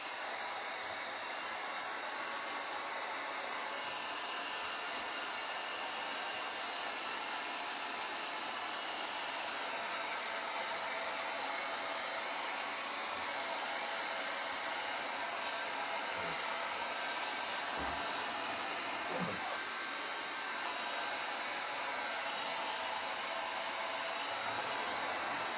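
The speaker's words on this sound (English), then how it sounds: "I'm going to go ahead and pick my dryer up once again" A hair dryer blows steadily and close up, drying paint on a DIY cow head craft kit, a loud, even whoosh that holds for the whole stretch with no talking.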